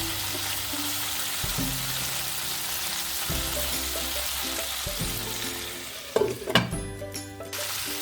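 Cauliflower florets fry in oil in a covered pan, a steady close sizzle with low hum; near the end a lid lifts and brief clatter and stirring scrape break through the frying.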